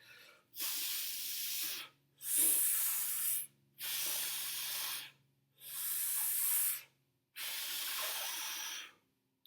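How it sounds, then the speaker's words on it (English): Five slow, rhythmic exhales through pursed lips in balloon breathing, each a steady airy hiss separated by short silent pauses. "you would purse your lips when you're exhaling out air"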